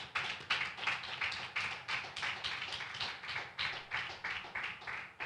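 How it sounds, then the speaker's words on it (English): A church congregation claps hands in praise at a Sabbath service: steady, rhythmic clapping with about two claps per second, fairly loud and close, with no talking over it. "Give God a hand clap of praise right there."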